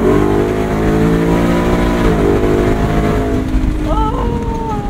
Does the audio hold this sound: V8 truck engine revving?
yes